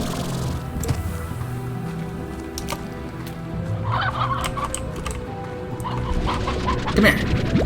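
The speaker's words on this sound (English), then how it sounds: "See, I hear chickens." Chickens in the game Slime Rancher cluck and gobble in repeated bursts at moderate distance, layered over a continuous game background with a person talking now and then.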